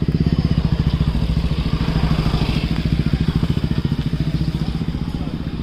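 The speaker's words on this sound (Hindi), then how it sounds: "साइड हो जाओ, बाइक आते।" A motorcycle engine puts close by along a Ganges riverside path in Haridwar, a loud rapid regular thumping beat that fades slightly as it moves, with faint voices behind it.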